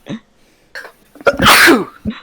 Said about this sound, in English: extra sneezes out